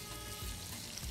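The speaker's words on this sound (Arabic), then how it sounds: "بسخن البصل والفلفل" Onions and peppers sizzling in a hot pan for Syrian chicken fatteh, a dense, continuous hiss heard up close for a brief moment.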